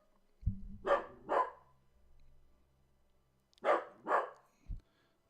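A dog barks in two quick pairs, with a pause of a couple of seconds between them, fairly close and clear against a quiet room.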